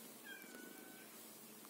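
A cat gives a soft, faint meow, a thin brief call heard alone over quiet background hiss.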